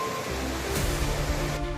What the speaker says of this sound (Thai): เมื่อเสียงน้ำตกเริ่มดังขึ้น